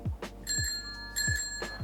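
A bell rings out in clear, bright repeated strokes, several rings with sustained metallic overtones heard up close against soft low thumps.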